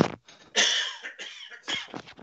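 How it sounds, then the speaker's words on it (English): A person coughs repeatedly in a woodturning workshop, a burst of harsh, rasping coughs with a loud spell in the middle and a final cough near the end, close and clear with no talk over it. "I've got a bad cough"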